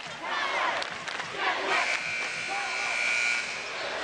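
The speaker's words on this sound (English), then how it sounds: "Jesuit cheer staff's got 8 minutes of cheers left." A cheer squad cheers at a 2005 Oregon 4A boys basketball championship game in a gymnasium. The shouted, chanting voices are loud and continuous and blend with crowd noise throughout.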